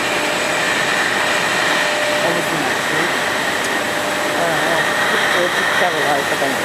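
Brewery bottling line machinery at Charles Wells and Young's runs with a loud, steady whirring roar as bottles enter for sterilising, a faint voice under the mechanical din.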